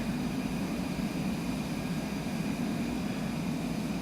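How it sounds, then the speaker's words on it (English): An aircraft taxiing onto a runway in Microsoft Flight Simulator 2020: a steady, even engine drone and hum with no change in level, no voices. "And I am taxiing onto the runway."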